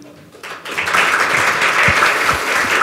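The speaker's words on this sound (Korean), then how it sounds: "큰 박수 부탁드립니다" An audience at a Gyeonggi Province data-dividend event breaks into steady applause, a dense, sustained wash of many hands clapping that swells in after a quiet moment and holds loud to the end.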